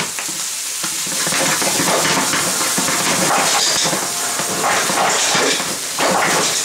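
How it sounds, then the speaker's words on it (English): Broccoli and shrimp sautéing in a hot pan, a loud, steady sizzle and hiss that runs without a break, with faint stirring scrapes underneath. "over here I got my broccoli and stuff sauteing up nicely"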